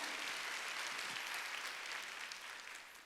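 A church congregation claps together in a broad, even wash of applause during a Sunday service, steady throughout and thinning slightly at the close, heard at a distance and fairly faint.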